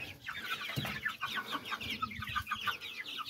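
Young chickens from the first hatch, in a pen of ornamental breeds, cluck and chirp continuously in a busy overlapping chorus, near and moderately loud.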